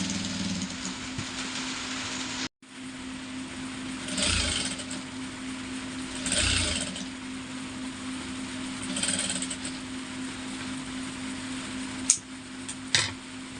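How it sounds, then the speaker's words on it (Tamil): A sewing machine stitches a blouse seam, its steady mechanical whir running continuously with a few brief louder bursts and a short break partway through, with no one talking. "அடுத்தது இந்த சைடில் ஒரு தையல் கொடுத்துருங்க"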